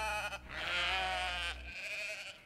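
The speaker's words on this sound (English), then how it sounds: "Sheep?" A sheep bleats twice in quick succession, loud and close, with a drawn-out wavering call followed by a shorter one.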